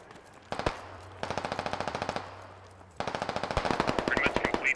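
Bursts of rapid automatic gunfire strike near the player in a 100-player military simulation video game. The cracking volleys come loud and close in several rhythmic strings with brief pauses between them.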